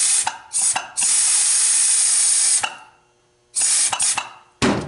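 Air hissing out of a leaking 4T65E transmission input drum with a cracked weld, loud sharp bursts of compressed-air blowing that start and stop several times, one long blast in the middle, close up, with no talking.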